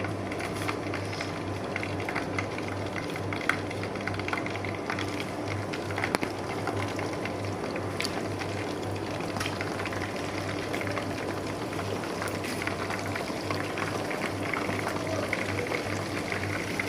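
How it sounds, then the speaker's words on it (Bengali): Chicken pieces deep-frying a second time in hot oil on full heat, a steady dense bubbling sizzle running continuously and evenly throughout, close, with no voices. "আমার এই সবগুলো চিকেন আমি আবার আরেকবার করে ভেজে নেব।"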